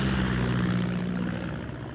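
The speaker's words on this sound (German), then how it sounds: "da ist ein Hubschrauber. Aber der ist weit weg." Distant helicopter in Far Cry 6, a low rotor thrum that throbs faintly and fades over two seconds, with no talking over it.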